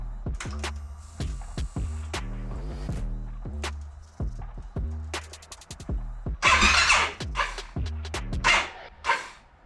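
A Honda TRX700XX ATV engine runs roughly, with uneven chugging pulses, coughs and sharp pops, close and loud, lurching irregularly throughout.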